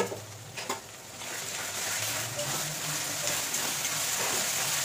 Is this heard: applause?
no